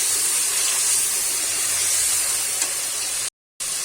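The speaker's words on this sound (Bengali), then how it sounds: "টমেটোটা যতক্ষণ নাড়বো কাঁচা গন্ধটা যতক্ষণ না যায় ততক্ষণ টমেটোটাকে আমি ভেজে নেব।" Tomatoes sizzle steadily in a pan with oil for a dhaba-style paneer masala, a continuous close frying hiss with faint stirring, cut by a brief silent gap near the end.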